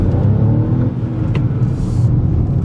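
A steady, deep three-cylinder turbo engine drone from a 2023 Kia Rio underway on back roads, throbbing low and loud throughout with a faint whir on top and no voices.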